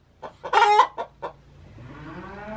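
A broody hen clucking and squawking defensively over her eggs, several loud, sharp close calls in quick succession, followed by a quieter rising background noise.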